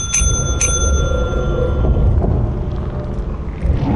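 A bell is rung twice in a video game, two bright rings close together at the start over a loud low rumble.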